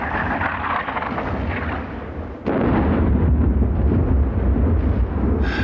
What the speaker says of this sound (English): Seems like preparatory fire. German.